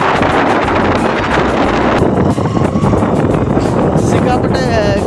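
Strong wind buffets the microphone outdoors, a loud continuous roaring rumble with gusty bursts throughout, steady and close with no pause.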